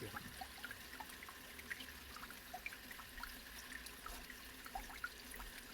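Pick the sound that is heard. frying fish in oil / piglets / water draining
water draining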